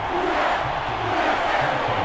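A home stadium crowd roars and cheers steadily after a late field goal at an NFL game between the Denver Broncos and New Orleans Saints, a dense, sustained wash of voices.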